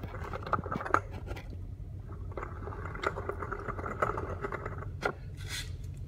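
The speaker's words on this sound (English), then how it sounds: "here's a sound clip of the Buddy Club Spec 2 exhaust" A warmed-up car fitted with a Buddy Club Spec 2 exhaust idles with a steady, low, even rumble, fairly quiet and unbroken, with a few faint clicks and rattles over it.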